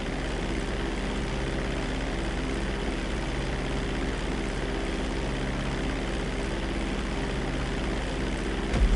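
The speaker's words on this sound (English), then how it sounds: "Hold the throttle all the way down to pick up speed, and pull back on the stick to take off." An airplane takes off in GTA V: a steady droning propeller engine hum holds at constant loudness throughout, with no talking, and a brief thump at the very end.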